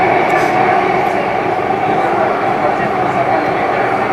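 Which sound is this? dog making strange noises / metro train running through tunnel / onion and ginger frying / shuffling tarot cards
metro train running through tunnel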